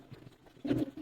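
Army-breed pigeons in a loft give a single short, low coo, close and faint, against quiet surroundings.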